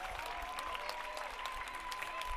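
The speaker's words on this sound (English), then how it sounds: "Got some applause around Utica" Faint, steady clapping from a baseball crowd in a minor league stadium, distant and continuous across the short stretch.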